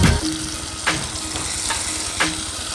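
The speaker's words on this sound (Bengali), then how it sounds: "আবার দিয়ে দেব তেল। আবারও একই রকমভাবে ভেজে নেব।" Chicken hariyali malai kabab pieces fry in hot oil with a steady, close sizzle, broken by a few louder spitting crackles, and no voices.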